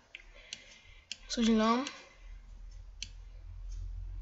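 A computer mouse is clicked during the Shakes and Fidget game, giving sparse, sharp clicks at close range with brief speech over the middle.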